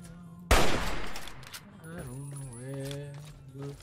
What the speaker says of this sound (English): I'm gonna take out the hunting rifle.